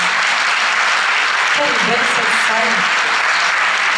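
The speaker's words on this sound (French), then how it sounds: "vous pouvez vous applaudir" Audience applause in a hall at a Miss Côte d'Or 2023 election, a broad wash of clapping that runs the whole time while someone speaks briefly over it.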